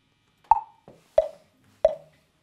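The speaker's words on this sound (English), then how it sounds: "Let's do this again with a metronome." Metronome ticks sound as three sharp, evenly spaced clicks, close and clear, with a softer knock between the first two and no talk.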